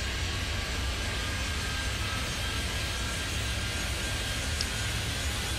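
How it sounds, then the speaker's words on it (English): Airliner being pushed back from a gate in the Airport Madness 3D game, heard as a steady, broad engine and ground-equipment rumble with a faint high whine, continuous and even throughout with no talk. "See this plane getting pushed back"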